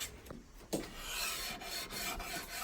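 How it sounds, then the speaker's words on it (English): Hand sanding along the curved edge of a wooden workpiece, a soft broadband rasping rub that runs steadily for a few seconds after a brief knock, fairly quiet and close, with no voices. "Do a bit of hand sanding on the curve."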